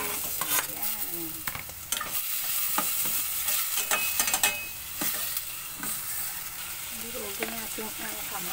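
Tomato is stirred and mashed in a frying pan as it sizzles, a spatula scraping and clacking against the metal in irregular strokes over a steady low sizzle, close and moderately loud.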